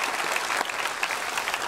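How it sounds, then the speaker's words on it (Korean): A church congregation claps steadily and warmly throughout, a dense, even wash of applause from many hands indoors. "서로를 격려하며 축하 박수 드립시다"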